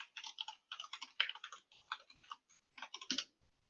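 A password is typed on a computer keyboard in quick bursts of light, crisp key clicks with brief pauses between groups, close and quiet with no talking.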